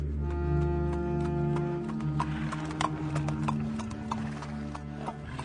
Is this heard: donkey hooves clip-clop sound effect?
yes